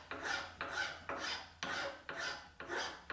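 A wood file rasps across curly maple in six even strokes, each a bright scraping sweep that starts sharply and tapers off, close and steady with no voices.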